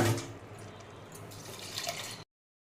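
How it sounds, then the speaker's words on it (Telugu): Four glasses of water are poured into a cooking pot of rice for palak paneer vegetable pulao, a brief close splashing fill that cuts off abruptly. "అందుకే 4 గ్లాసెస్ ఆఫ్ వాటర్ వేస్తున్నాను"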